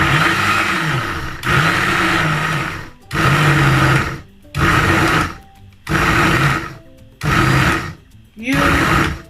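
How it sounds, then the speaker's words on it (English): A blender chopping okra runs in repeated short pulses, roughly seven bursts of whirring motor separated by brief pauses, loud and close. "So then I give it a shake because this is my blender"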